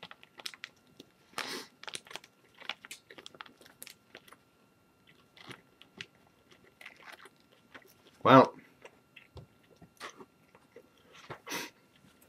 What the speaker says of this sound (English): chew and get 20 minutes of just me just chewing in front of the camera